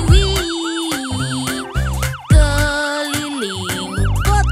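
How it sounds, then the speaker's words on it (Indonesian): A siren wails up and down repeatedly over a children's song backing, loud and close, like a toy or song version of a fire truck siren. "Sirene truk pemadam kebakaran berbunyi wiii"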